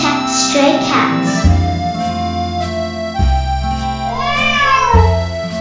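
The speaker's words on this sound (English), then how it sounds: "Meow." A female black stray cat meows several times in close succession, loud and near, with drawn-out rising and falling cries and a backing of music or other tones underneath.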